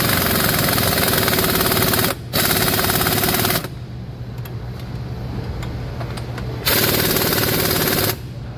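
Big cordless Milwaukee impact gun hammering on a Sprinter van's front shock bolt, two loud rattling bursts separated by a brief pause, then a quieter stretch and a third burst, very close and without talk.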